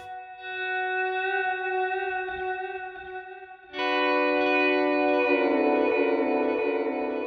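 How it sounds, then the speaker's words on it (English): Electric guitar through an Archetype amp plugin, a sustained clean chord ringing out and then a second fuller chord struck with reverb switched on, leaving a long shimmering tail. "But if I engage the reverb"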